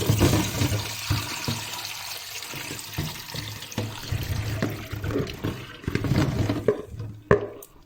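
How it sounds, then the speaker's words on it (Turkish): Washed strawberries and their rinse water tip into a colander, giving a close, uneven splashing and draining rush with soft knocks as the berries tumble and settle. "Şimdi süzgece dökelim bunları"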